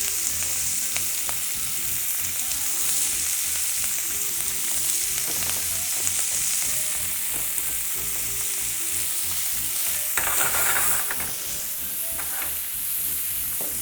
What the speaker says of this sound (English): You want to hear a sizzle.